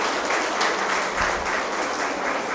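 A Rotary Club installation ceremony audience in Gokak breaks into sustained, dense applause, a loud continuous wash of many hands clapping together without pause.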